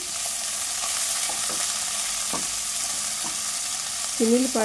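Chopped onion frying in oil with tempering spices for a purple cabbage curry, a constant hiss of sizzling with occasional ladle taps and a brief metallic squeak at the end.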